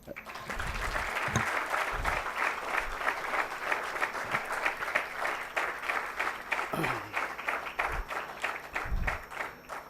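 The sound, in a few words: audience applauding a presentation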